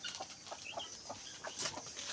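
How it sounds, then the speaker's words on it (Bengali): A chicken clucks repeatedly at close range among a flock of quails in a poultry pen, short soft clucks recurring every half second or so over faint bird chatter and rustling. "কোয়েল পাখির মধ্যে দেখুন একটা মুরগি ঢুকেছে।"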